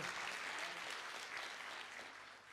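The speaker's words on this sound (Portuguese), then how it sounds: "Dê uma forte salva de palmas ao Senhor." Steady applause from a church congregation fills the space, a continuous wash of many hands clapping together that tapers slightly near the end.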